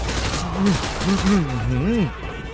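Gunfire in Call of Duty Modern Warfare 2 rattles in rapid bursts behind loud, excited shouting, with the shots partly masked by the talk.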